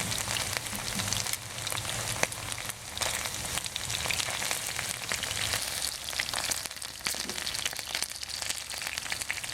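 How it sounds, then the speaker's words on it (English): Chicken pieces pan frying in hot oil give a continuous dense sizzle with scattered crackles and pops, steady and close throughout. "I want to pan fry until they both turn golden brown"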